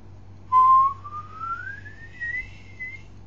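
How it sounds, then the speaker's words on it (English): A person whistles one sustained note that slides steadily upward in pitch as the tongue moves forward, clear and close in a quiet room, with no talking. "If you whistle and you wanted to raise the note up, you know, you would whistle and you'd take your tongue forward"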